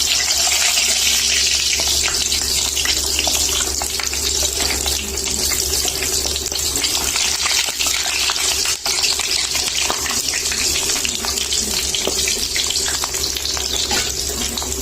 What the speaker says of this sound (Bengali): টিকাগুলি এক পিস করে ভাজছে